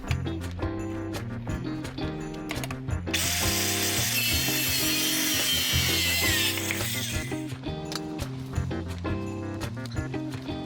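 Circular saw slicing through a cedar fence picket, a loud sustained whine lasting a few seconds in the middle, set against a steady background of music before and after.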